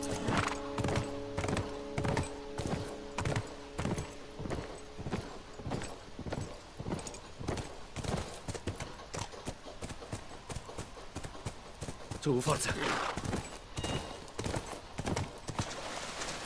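Horse hooves clip-clop in a steady, quick rhythm throughout a ride in The Last of Us, with a louder flurry of hoof noise late on and a short spoken line mixed in.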